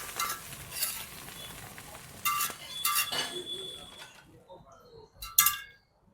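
Garlic frying in a pan at a street food stall, with sizzling under sharp metal clinks and scraping from utensils against the pan; voices talk intermittently nearby.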